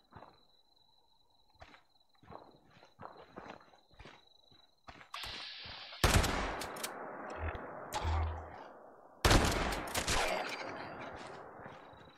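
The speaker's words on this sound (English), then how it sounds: "these shotguns are very effective against you guys" Shotgun blasts in the post-apocalyptic game Fallout 76: loud, sharp booms ring out near six, eight and ten seconds with lingering roll-off, preceded by lighter clicks and footsteps.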